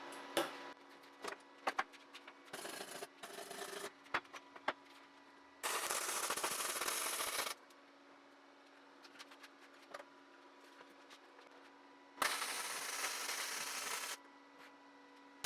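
Thin-walled steel tube for patio chairs is welded in two sustained bursts of loud, close crackling sizzle, each about two seconds long, with quieter ticks, scrapes and a steady low hum in the gaps between them.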